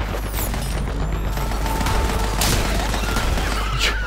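Rapid gunfire rattles in Borderlands 3, dense bursts of shots with sharp louder cracks near the middle and end, under a continuous low game rumble.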